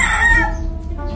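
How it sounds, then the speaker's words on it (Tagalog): A rooster among rare off-color breeder chickens on a farm crows loudly and close up in a single call that fades into quiet farmyard background. "Tapos may manok dito."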